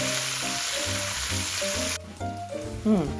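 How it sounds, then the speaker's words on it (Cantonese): Sliced scallion segments hit a hot wok for a tofu and roast pork belly claypot dish, giving a loud, steady frying sizzle for about two seconds before it drops away under quieter tonal sounds. "我哋就可以加入頭先切好嘅葱段"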